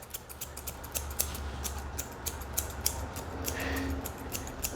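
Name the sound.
scissors trimming a small dog's fur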